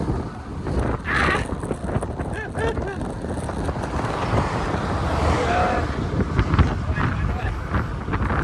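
Steady wind roaring across the microphone while cycling uphill on a 300 km brevet, a constant broadband rush with gusts, while people talk over it.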